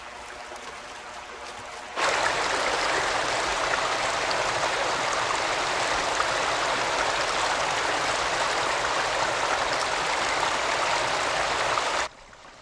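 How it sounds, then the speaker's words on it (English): Steady rushing water fills an Australian waterway, a broad, even wash that starts abruptly after a quiet opening and cuts off just as suddenly near the end. "the water creeps quietly inland, filling hundreds of dry waterways"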